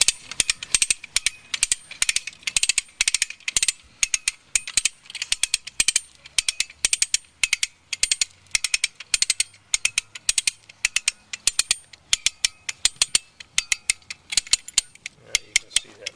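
A ratchet mechanism cranks a rope tied to a tree, making a long run of sharp, close metallic clicks in a steady, repeating rhythm.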